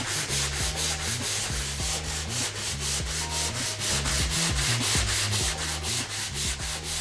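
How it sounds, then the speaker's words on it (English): Wooden furniture boards being sanded, a loud rhythmic back-and-forth rubbing scrape repeating steadily in quick strokes throughout. "First, they have to be sanded down."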